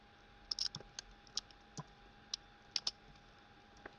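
Keys on a computer keyboard are tapped slowly and irregularly, with sparse light clicks in small clusters, quiet and close against a faint hum.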